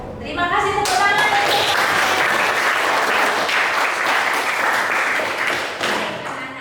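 Children in a classroom applaud together, a dense, steady burst of clapping that fills the room, with a few young voices and an adult speaking faintly at the start before the clapping fades out.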